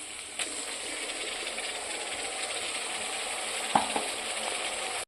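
Ginger, garlic and tomato paste with fried onion sizzling in a pan for a chicken dish, a steady close hiss throughout with a couple of sharp clinks from a utensil, no talk.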